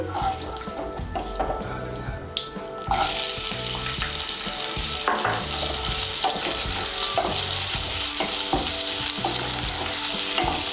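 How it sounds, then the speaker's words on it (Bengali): Chopped onions frying in a pan for a Bengali potol do pyaza, a loud, steady sizzle that jumps up after a quieter opening with stirring clatter, scrapes and clicks scattered throughout. "পেঁয়াজ কুচিটাকে ভেজে নেব"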